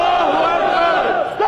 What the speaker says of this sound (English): The battle cry, God is great, almost a whisper, rippling through the crowd.